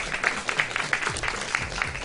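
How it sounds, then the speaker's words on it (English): Audience at a high school event applauds, a short burst of scattered hand claps that continues steadily without any talking over it. "Yes, we applaud for them."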